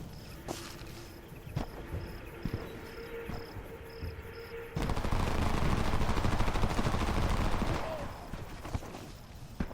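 Video game Homefront: a dense burst of sustained automatic gunfire erupts midway and runs for about three seconds, following scattered sharper shots and ambient insect-like chirping, with some talk in the background.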